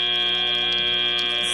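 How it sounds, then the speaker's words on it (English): A steady electronic buzzer sounds at a robotics competition match, marking the start of driver control; a continuous tonal drone holds for the whole moment amid arena hum. "Sound of the buzzer means drivers are taking control."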